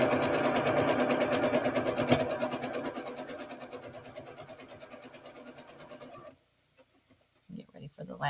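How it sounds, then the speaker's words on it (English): A sewing machine runs in a fast, steady stitching burst while sewing the seams of a quilt block together, then stops abruptly near the end, leaving near-silence with a few faint handling sounds. "So I hold my seams and sew"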